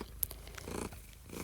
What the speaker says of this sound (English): the cat's climbing all over me and she's purring